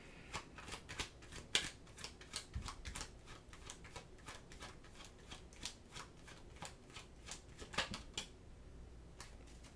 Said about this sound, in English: let's get another card on the mix here